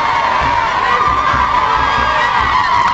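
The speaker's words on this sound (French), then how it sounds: "ces populations qui expriment leur joie par différentes manières, les youyous, les appels par son nom," A large outdoor crowd of townspeople in Mauritania cheers, shouts and ululates to greet a visitor along the road, a steady loud wall of voices with high trilling calls riding over the din.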